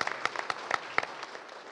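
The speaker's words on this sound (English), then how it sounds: "how about a round of applause for our moderator" A brief burst of audience applause for a session moderator at a talk on climate change news: moderate, fairly distant clapping with a few sharper individual claps, no voices.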